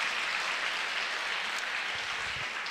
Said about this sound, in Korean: 박수 좀 쳐봐라.